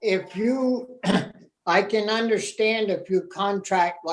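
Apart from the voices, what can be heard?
No everyday noises stand out.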